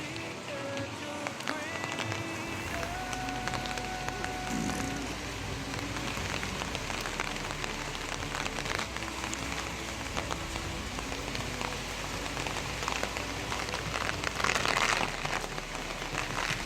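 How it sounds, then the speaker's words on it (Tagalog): Heavy typhoon rain pours steadily onto surfaces in Camarines Norte, a dense constant hiss with wind gusts, loud and unbroken throughout. "Ang lakas ng ulan."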